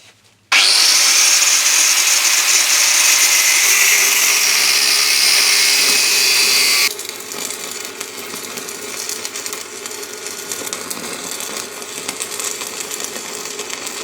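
A length of metal pipe is cut off for a kids' bike quad frame build, giving a loud, steady, high grinding whine for several seconds that then drops to a quieter rough rasp.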